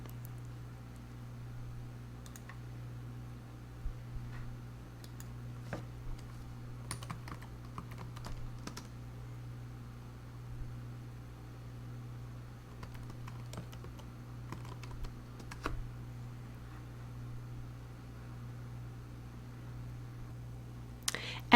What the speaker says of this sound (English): You're going to see the definition and try to type the term as fast as you can.